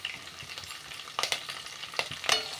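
Whole chillies frying in hot oil for South Indian ven pongal, a steady soft sizzle with sharper crackling pops breaking through now and then, close up and without any voice.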